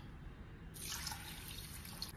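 Rice with chana dal and urad dal being rinsed in water, a soft continuous splashing and trickling that starts suddenly partway through and stays steady and close, with no talking.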